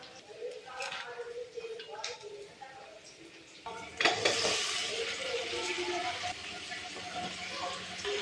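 Finely chopped broad beans (avarakkai) tumble into a pan for a Tamil home-style dish: light clinks and scrapes at first, then a sudden louder burst of hissing sizzle and steady stirring, close by, that continues to the end.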